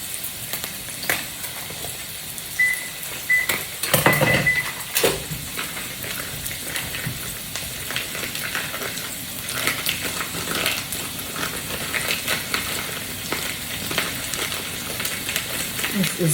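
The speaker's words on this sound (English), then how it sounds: "we're gonna just go ahead and add our ground beef to the pan" One pound of ground beef frying with onion in bacon grease in a pan, giving a continuous loud crackling sizzle with scattered spatula scrapes and clatter throughout.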